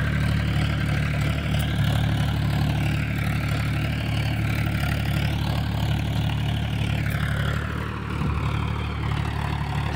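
Powertrac Euro 50 tractor engine running with a rotavator, a loud steady low diesel drone with a slight dip in revs near the end, no talk.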